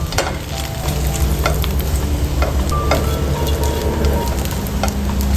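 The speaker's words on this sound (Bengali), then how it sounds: "সাইডগুলোকেও একটুখানি ভেজে ভেজে নিই" French toast sides frying in a pan give a loud, close, crackling sizzle with continuous sputtering pops and occasional scraping as the pieces are moved, with no talk.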